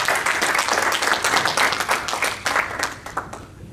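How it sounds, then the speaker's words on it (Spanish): Church congregation applauding during a Spanish-language service: dense, lively clapping from many hands that stays strong, then thins and fades toward the end. "Denle un fuerte aplauso al Dios de la gloria."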